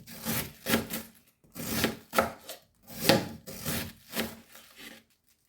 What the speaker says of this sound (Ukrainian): Так, дрібненько зараз наріжу.